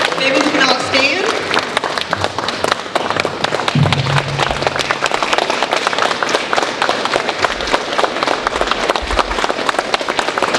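A crowd applauds after a Pink Day presentation, dense clapping running steadily for about ten seconds with scattered thumps and some voices underneath.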